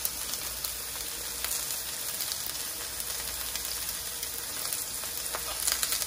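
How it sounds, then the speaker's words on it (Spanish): Onion and garlic fry in a pan with a dense, continuous sizzle, heard close and steady from start to finish with no voices. "La cebolla y el ajo se guisan primero para que todo vaya bien sazonado."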